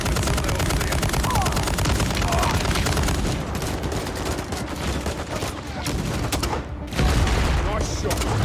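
Dense, sustained gunfire from a Modern Warfare 3 battle in a frozen tundra, rapid automatic bursts and shots overlapping continuously at close range, with voices talking over the din.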